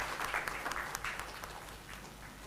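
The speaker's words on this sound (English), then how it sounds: "may I ask you to give the big applause for the three of our" Audience applause for three speakers at an academic conference session, a steady wash of many hands clapping at moderate level with scattered sharper claps, sounding somewhat distant in the hall and continuing for the whole stretch without any voices.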